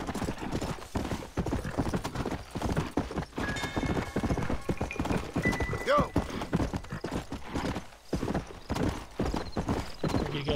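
Horse hooves clip-clop in steady rhythmic beats in Red Dead Redemption, with a brief whinny partway through and someone talking over the hoofbeats.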